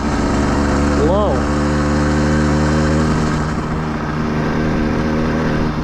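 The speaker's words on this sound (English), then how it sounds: "the RPMs on the motor sound real low" A 110cc motorized bike engine runs at low RPM with a steady, close, droning hum and a brief rising whine near the start, while a person talks over it.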